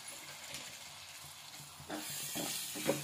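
Tomatoes stirred into frying masala for Kolhapuri-style chole give a soft, steady sizzle that swells louder in the second half, with a few stirring scrapes near the end.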